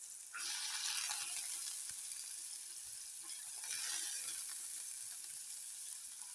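Chana dal tips into a hot pan with spring onion and starts a steady, bright sizzle that stays loud and even throughout, with no talking over it.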